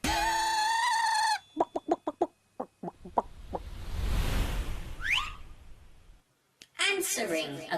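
A chicken clucks in a burst of sharp, separate calls after a long drawn-out squawk, fairly loud and close. Other noisy sounds follow, with a voice at the end.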